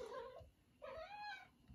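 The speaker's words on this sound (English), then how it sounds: "Cat." House cat meowing for attention indoors, two drawn-out, fairly quiet meows with a short pause between them, heard alone without talk.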